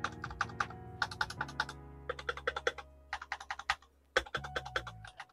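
Typing on a Redragon K617M HE magnetic keyboard: close, crisp keystroke clacks in uneven bursts with brief pauses, over a faint sustained background tone.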